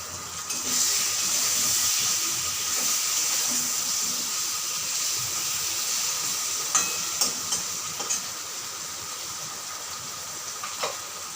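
Green chillies fry in hot oil in a pan for a hilsa fish curry, giving a continuous soft hiss and sizzle with a few sharp crackles and pops near the end.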